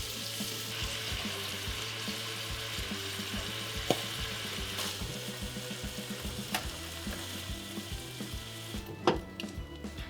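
Pork belly sizzles in a pan with a tablespoon of soy sauce, a continuous close frying crackle with occasional utensil clicks and a louder splash or scrape near the end, and no talking.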